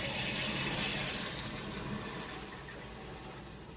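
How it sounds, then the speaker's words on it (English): Water rushing through a backflow preventer's first check valve after being turned back on in a building's plumbing, a steady broadband gush with no voices that fades slightly toward the end. "So now turn water on through the first check valve."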